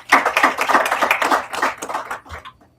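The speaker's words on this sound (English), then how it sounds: "So let's give them all a big round of applause." A room of people at a school board meeting gives a short round of applause, close, fairly loud clapping that peaks early and tapers off within about three seconds.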